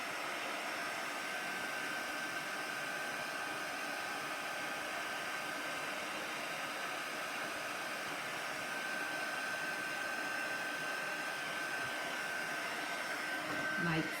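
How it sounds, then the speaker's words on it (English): A heat gun blows over a cardmaking project to melt embossing powder, giving a steady, faint airy hiss with a thin whine that runs unbroken for about fourteen seconds. "holding the heat gun still"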